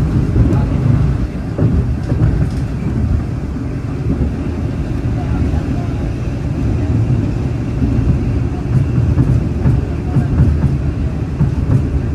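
KA Bogowonto economy-class stainless steel train running on rails, heard from inside the carriage: a loud, steady low rumble with faint rail clicks throughout, with voices murmuring underneath.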